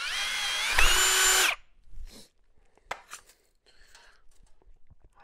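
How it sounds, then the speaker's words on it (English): Hand drill boring through 1/4-inch steel: a loud high whining grind for over a second that stops abruptly, followed by scattered faint clicks and handling noises. "I'm just holding a hand drill, but I am getting through it"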